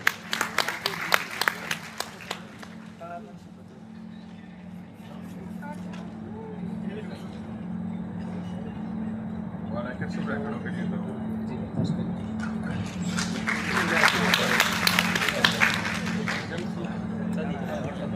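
Crowd applause at an outdoor Wolf Day celebration at Nadabet border honoring a forest officer, bursts of clapping at the start and a louder swell near the end, with someone speaking over a steady hum in between.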